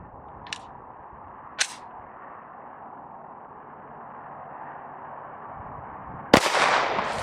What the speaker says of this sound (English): we're just going to shoot the target.